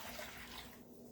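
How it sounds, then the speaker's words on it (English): Hot water, about 2.5 cups, poured into a steamer while making Tuscan herb risotto quinoa, a faint, brief splashing pour with a steady watery hiss. "so we're just going to pour that in the steamer"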